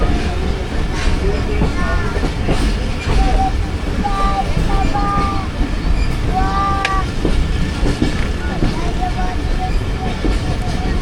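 Rehman Baba Express behind a ZCU30 locomotive accelerating through a platform: steady loud rolling rumble and wheel clatter with intermittent horn-like tonal squeals, heard from aboard the moving train.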